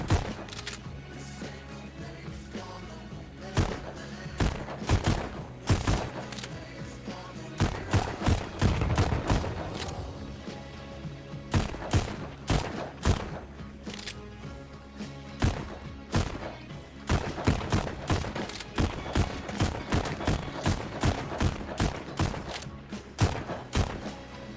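Loud, dense gunfire fills a VR shooting game on a Quest 2 headset, with rapid volleys and sharp individual shots crackling almost nonstop and only brief lulls between bursts.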